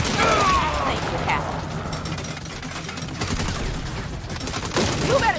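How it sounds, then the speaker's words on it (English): Turret gunfire in the video game Saints Row, a dense rattling fusillade under game voices and music, loudest at the start and again near the end. "You better shoot that turret like you shoot off your mouth"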